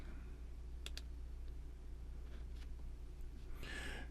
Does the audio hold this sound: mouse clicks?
yes